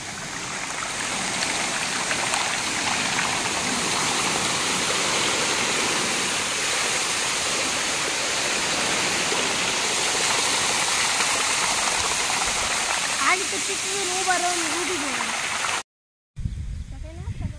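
Water flows loudly through a farm field in a constant heavy rush like a small waterfall, with a brief voice near the end before a short cut in the sound.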